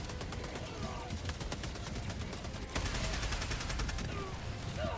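Helldivers 2 gunfire at a tank keeps up as a dense, continuous rattle of rapid shots, loud and steady throughout, with the fire growing slightly heavier partway through and voices talking over it.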